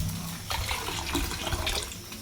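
Water poured into a pot while making a cooking mixture, a steady splashing and trickling flow that stays fairly even throughout with no voices.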